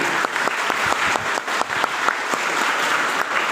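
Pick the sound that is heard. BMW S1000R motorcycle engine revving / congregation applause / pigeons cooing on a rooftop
congregation applause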